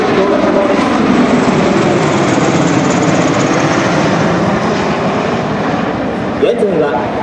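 A Bell Boeing V-22 Osprey tiltrotor of the Japan Ground Self-Defense Force flies in fixed-wing mode at about 330 km/h during the Fuji live-fire exercise: a loud, steady, broad roar that holds throughout.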